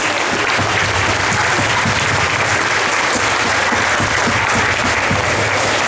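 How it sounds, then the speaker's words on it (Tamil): Audience at a Tamil school annual function stands and applauds, a dense, steady wash of many hands clapping that fills the room at high level for the whole stretch. "எந்திரித்து நின்று கைத்தட்டுங்கள்"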